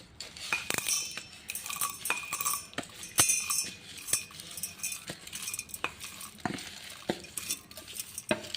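Dry coconut, garlic and sesame fry in a pan while a utensil stirs, giving frequent sharp metallic clinks and scrapes over a soft sizzle.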